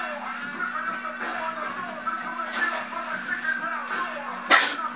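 A sneeze bursts out near the end, loud and close, following several seconds of quiet household background with faint talk.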